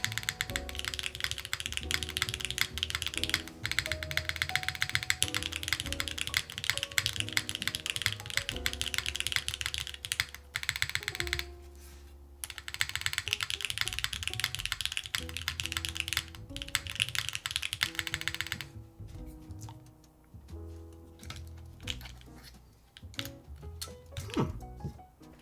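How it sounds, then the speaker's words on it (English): Typing on a custom mechanical keyboard fitted with GMK keycaps, Overture V2 board with Hall-effect and MX Bliss switches, in dense, steady clacking keystrokes that run nearly the whole time and thin into sparser taps near the end. "Been wondering this whole stream why people like GMK keycaps so much. Yeah, they definitely have a nicer sound."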